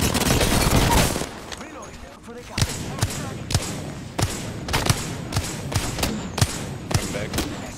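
Gunfire in the Apex Legends video game, a rapid string of sharp, punchy shots in irregular bursts after a louder chaotic stretch, close and prominent.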